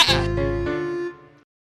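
A goat bleats once, a loud, close, wavering harmonic cry that holds for about a second before fading out, with no talk over it.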